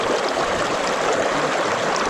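Steady, close rush of water flowing through a gold sluice while rock is run, a continuous broadband wash with no voices.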